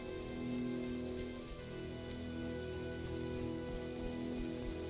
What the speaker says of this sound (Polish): Nic nie widać przez ten deszcz.